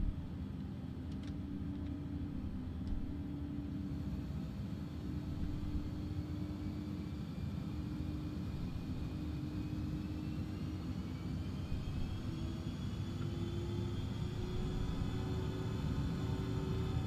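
Embraer E145XR jet engines at takeoff power in a flight simulator give a steady, loud, continuous roar and rumble with a slowly rising whine, sustained throughout with no talking.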